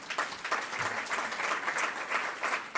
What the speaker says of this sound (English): So another round of applause for that, please.